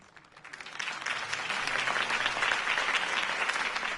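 Crowd applause in Batman: The Telltale Series after a Harvey Dent campaign speech, starting faintly and swelling within a second into loud, sustained clapping that holds steady, no voices over it.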